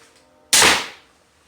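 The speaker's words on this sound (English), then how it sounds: "pull the trigger to fire, like I just did" A PSE Viper SS handheld crossbow with a 50-pound draw weight firing a bolt, a single sharp, loud snap that decays quickly, close by in a quiet setting.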